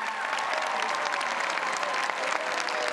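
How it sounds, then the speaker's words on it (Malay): A large audience at an international Malay-language oratory competition finale applauds steadily and loudly, a dense wash of clapping lasting the whole stretch with no talking over it. "berikan tepukan paling gemuruh untuk kita hilangkan debaran para peserta"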